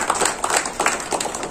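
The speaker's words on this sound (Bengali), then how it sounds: "একটা জোরে হাততালি হোক।" An audience at a small community event honouring young runners in Siliguri claps loudly for a short burst of brisk, overlapping hand claps.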